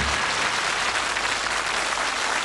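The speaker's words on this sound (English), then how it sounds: "One round of applause." A television game show studio audience applauds at a darts quiz, a dense, even wash of clapping that stays loud and continuous from start to end.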